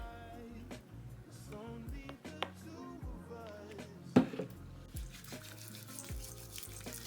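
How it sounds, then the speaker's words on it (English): Tap water runs into a sink while hands are wetted, a soft, close trickle and splash with a brief louder splash midway, over quiet background music. "So, wet my hands a little bit."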